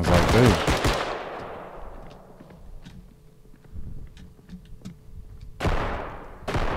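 Gunfire in the video game Bodycam: a loud close burst of rapid shots opens, then a quieter stretch of footsteps and scattered clicks before another sharp burst of fire near the end.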